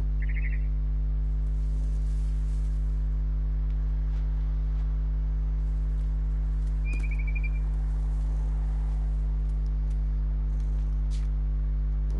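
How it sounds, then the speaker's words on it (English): A barn swallow chirps outside a window in a video game, two short, bright tweets heard near the start and again midway over a constant low electronic hum, with no voices. "Then I heard chirping outside my window. It was a barn swallow going back to her nest."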